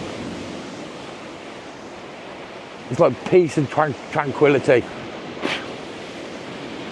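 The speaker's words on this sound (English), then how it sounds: "There's nothing better than the sound of the sea." Sea waves wash steadily on the shore along Blackpool promenade, a constant broadband surf roar with some wind, while a person speaks briefly in the middle.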